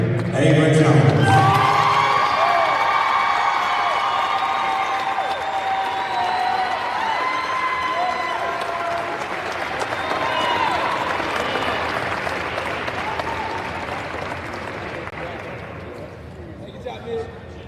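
A crowd claps and cheers loudly in a large echoing hall at a school sports event, with voices shouting over the applause, which gradually fades out.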